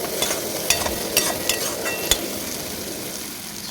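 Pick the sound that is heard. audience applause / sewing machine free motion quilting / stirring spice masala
stirring spice masala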